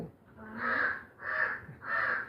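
A crow caws three times in a steady rhythm, loud and fairly close, each call harsh and drawn out with short gaps between.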